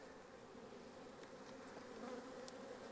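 Honeybees swarm out of a beehive being split into separate boxes, a steady, close, dense buzzing hum that swells slightly toward the end, with no voices.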